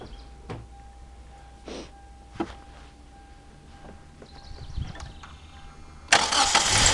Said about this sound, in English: So I'm going to start this one. This is also manual transmission, 2 liter engine.